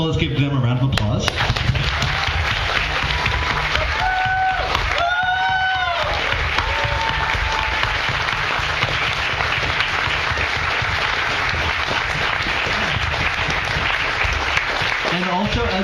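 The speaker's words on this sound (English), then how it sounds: "let's give them a round of applause." An audience at a political talk gives a sustained round of applause for grand jury resistors, dense steady clapping filling the room, with a brief voice or whistle rising above it early on.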